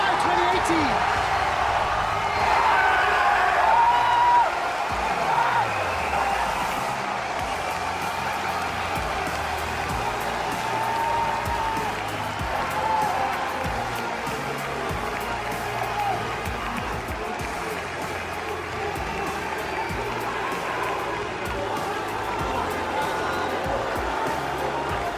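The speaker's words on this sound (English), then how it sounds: "Listen to France as they are cheering" A large arena crowd at an esports final roars with a broad, continuous cheer, loudest at the start and easing slightly, while a commentator speaks over it.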